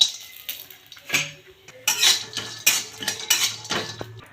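Metal spoon scraping and clinking against a pan while dry dates are stirred and roasted in ghee, irregular sharp scrapes and taps close up, with no voices.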